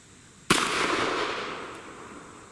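A single sharp 10mm Auto pistol shot from a 4.5 inch barrel cracks out loud and close, then a reverberant tail fades over about two seconds.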